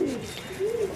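Dobaz pigeons coo softly up close, one low rolling coo swelling and fading, alone without voices.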